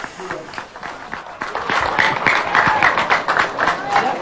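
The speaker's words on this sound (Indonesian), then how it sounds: "Kita berikan tepuk tangan." An audience applauds at Joko Widodo's victory press conference after a shared breaking of the fast: dense clapping swells up and holds steady and loud for several seconds, filling the room.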